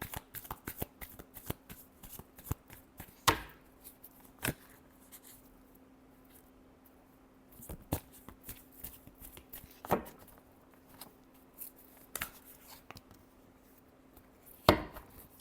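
Tarot cards are shuffled by hand in quick crisp riffles and slaps, with sharp clicks spaced every few seconds over a quiet room hum.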